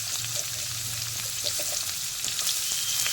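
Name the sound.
potatoes and onions frying in a pan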